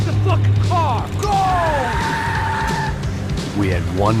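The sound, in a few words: car skidding during a chase in the video game Max Payne 3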